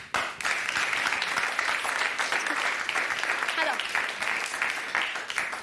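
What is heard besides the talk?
audience applauding at stand-up comedy show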